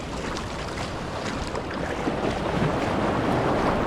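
Ocean waves washing along a shallow beach, a steady close rush of surf with wind buffeting the microphone, growing slightly louder toward the end, with no voices.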